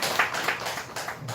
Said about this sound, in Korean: 자, 박수로 환영하겠습니다.